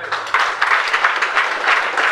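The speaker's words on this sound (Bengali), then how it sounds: "আঁকেলের জন্য একটা করতালি।" Audience applause in a hall during a presentation: a steady burst of many hands clapping, dense and fairly loud, continuing for about two seconds.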